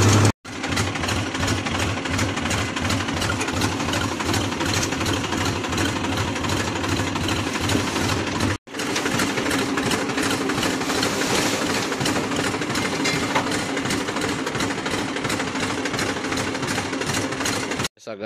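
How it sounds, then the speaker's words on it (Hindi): A tractor-mounted road grader runs steadily nearby, its engine a loud continuous chugging drone with a brief cut partway through, carrying on alone for the length of the clip. "ये ग्रेडर देख रहो भाई, ट्रैक्टर वाला ग्रेडर है,"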